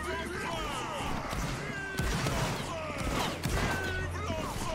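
A formed line fires a musket volley in a Napoleonic Wars video game, a rolling crackle of shots over several seconds mixed with a voice talking and other battle noise.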